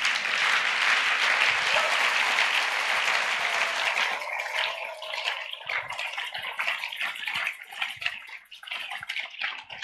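Church congregation applauding during worship, dense close clapping that starts loud and full, then thins out and grows patchier toward the end.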